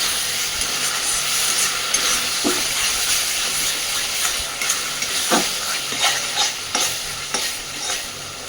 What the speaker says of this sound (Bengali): সুন্দরভাবে মশলাটা কষে রেডি করে নিয়েছি। আর এইবার এই মশলা থেকেও তেল বেরোতে শুরু করেছে।